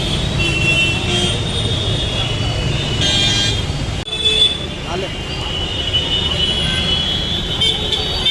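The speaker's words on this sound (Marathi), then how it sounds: "ट्रॅफिक भरपूर आहे" Heavy road traffic passes outside the Parel workshop gate in Mumbai, a continuous loud roar of engines with car horns tooting repeatedly, close by and filling the whole clip.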